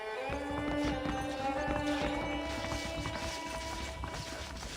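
Steady clip-clop of horse hooves trotting in the video game Red Dead Redemption, under a dense bed of music and ambient sound, continuous and moderately close throughout.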